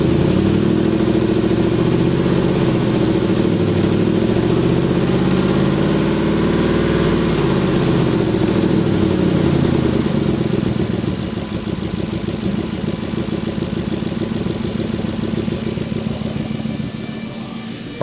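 A 2004 Ford F150 pickup with a 5.4 liter engine and automatic transmission runs steadily at idle, a loud, continuous low rumble throughout with a slight drop in level toward the end.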